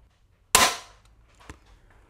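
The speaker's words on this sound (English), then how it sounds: "let's take a shot through the chrono here and see what we get" A Bear X Saga 420 crossbow is shot through a chronograph, giving one sharp, loud snap that decays quickly, followed by a faint secondary click, with quiet surroundings.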